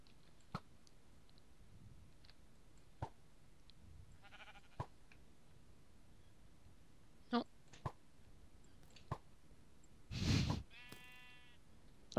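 Minecraft sheep giving a short bleat, faint and brief among scattered game clicks and a louder burst of noise, with quiet gameplay sounds throughout.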